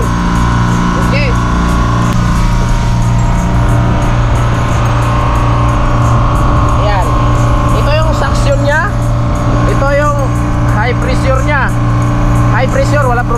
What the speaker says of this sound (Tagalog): Tapos, tumatakbo yung compressor mo.